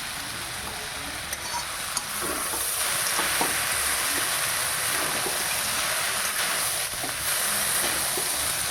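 Chow mein with Maggi and chow mein masala sizzling and being stirred in a hot pan, a steady broadband hiss with occasional scraping clicks, close and continuous.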